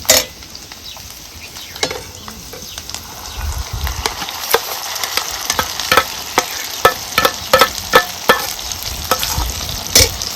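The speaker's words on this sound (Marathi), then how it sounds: "कलर सुटस्तोपर्यंत आपल्याला हा मसाला चांगला परतून घ्यायचा" Ground masala paste fries loudly in a kadhai with garlic and coconut for a mutton curry, crackling and sizzling steadily. A spatula scrapes and clacks against the metal again and again as the paste is stirred, with no talking.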